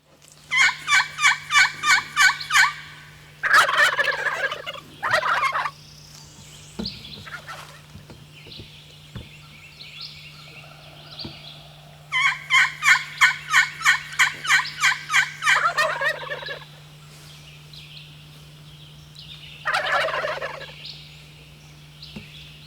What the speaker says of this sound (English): there are 3 big gobblers strutting right down the road